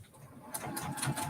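Sewing machine stitching a quilt binding, starting with a backstitch: a soft low hum that picks up into steady, close, rapid mechanical chatter after a quiet start.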